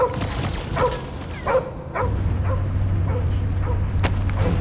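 Cosmo the dog barking in the video game Guardians of the Galaxy, a series of sharp, repeated yips and barks over a low steady hum, fairly close and loud.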